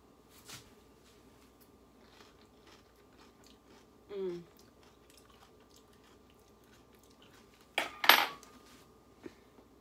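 A person takes a big bite of homemade beef brisket rub mix and chews, with a soft crunch near the middle and a louder, sharper crunch a few seconds later, over a quiet kitchen background.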